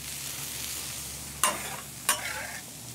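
Steak, peppers and onions sizzling on a Blackstone griddle, a steady close frying hiss broken by two sharp metallic spatula clacks, with no talking.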